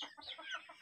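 Hungry backyard chickens kept alongside ducks and pigeons cluck restlessly while waiting to be fed. A few short, quiet clucks come in quick succession, close by, with no talking.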